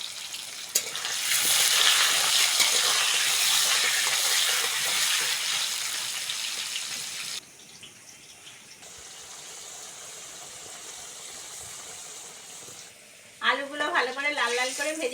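Potatoes frying in hot oil with salt and turmeric in a village kitchen, a loud, steady sizzle that drops to a softer hiss partway through, with a voice speaking near the end.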